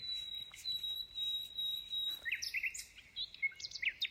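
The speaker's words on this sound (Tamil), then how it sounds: "சரியா வடிவான கலர் குருவி உண்டு." Small, colourful birds chirp in a series of bright, high tweets and short trills along the Yindyamarra Sculpture Walk. The calls ring out clearly, with a steady whistle early on and busier calling in the later half.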